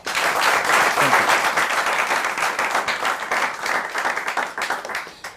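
Audience applause for a guest at a campus comedy show, a dense loud burst of many hands clapping that holds steady and then thins slightly, with a brief spoken thanks over it.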